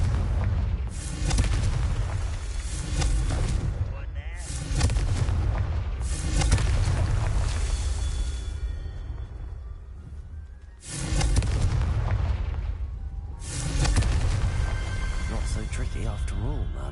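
Repeated booming Confringo spell blasts in the Hogwarts Legacy video game: several loud, long, rumbling explosions in sequence, with brief gaps between them.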